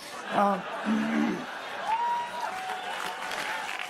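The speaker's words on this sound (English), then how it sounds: "Applause break because there's so much tension" During a comedy set, audience applause swells with scattered whoops and chuckles, spread across the room at moderate level, while a voice talks over it.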